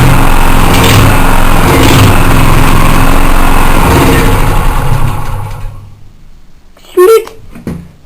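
A small petrol generator engine runs steadily and loudly, then dies away as it runs out of fuel, leaving near silence broken by a few brief knocks.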